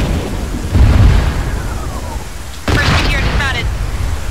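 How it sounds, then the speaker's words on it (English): Incoming cannon fire in the Arma 3 military video game produces two heavy, rumbling booms, one early and one louder blast near the end, each leaving a long low roll, while players talk over radio chatter. "we got cannons coming in northeast"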